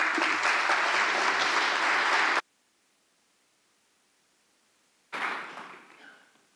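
Loud, sustained audience applause welcoming a student panel at a school event, steady for about two seconds before cutting off, then a second burst of clapping that swells and fades away.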